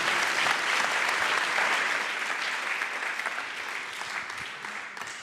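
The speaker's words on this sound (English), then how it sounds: "Please give them all a round of applause" Sustained audience applause for student founders at a university enterprise showcase, a dense, even wash of clapping from a sizable crowd that slowly tapers off over about five seconds.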